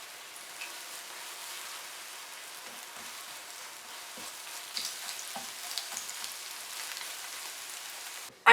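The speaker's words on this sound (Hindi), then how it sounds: "कढ़ाई में हम डालेंगे 2 से 3 टेबलस्पून ऑयल। अब इसमें ये अंडे डालेंगे।" Eggs frying in two to three tablespoons of hot oil in a kadhai, a soft, even crackling sizzle with a few brighter pops, fairly quiet throughout.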